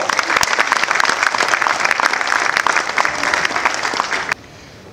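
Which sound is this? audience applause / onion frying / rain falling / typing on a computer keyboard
audience applause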